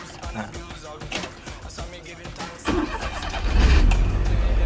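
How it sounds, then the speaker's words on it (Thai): An old Daihatsu Mira Spacy A1 kei car engine cranks and catches, then settles into a steady idle that grows louder and rumbling. "จะดูงาน เครื่องยนต์ เดี๋ยวผม สตาร์ท เลย แล้วกัน"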